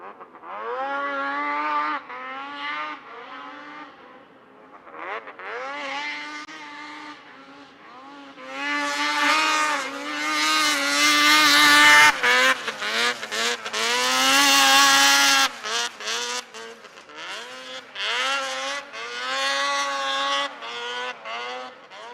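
A Polaris snowmobile at a world championship hill climb in Jackson Hole: a loud, high engine whine revs and climbs in pitch, surges into a harsh full-throttle roar, then wavers and fades as the sled pulls away.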